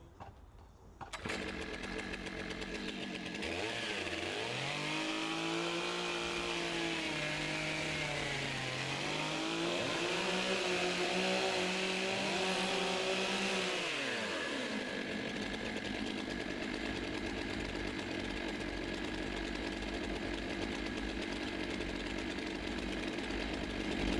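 A STIHL MS661 chainsaw roars steadily as it cuts through a 40 cm log at a timbersports championship, its engine pitch dipping under load mid-cut and rising again as it finishes, loud and close for most of the stretch.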